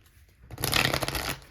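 A deck of tarot cards is riffle-shuffled once, a brief, crisp rush of flapping card edges lasting under a second and loud and close, after near silence.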